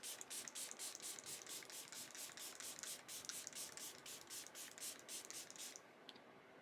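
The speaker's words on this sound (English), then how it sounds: "Put some spray, and put the Alba one again." Rapid repeated bursts of aerosol spray, a steady hissing pumped in quick pulses for several seconds, close and fairly quiet, then trailing off.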